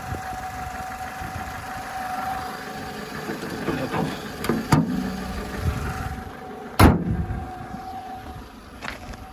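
A Citroën C4 VTS engine idles smoothly at a low, steady level, with a few brief knocks and handling noises over the even hum.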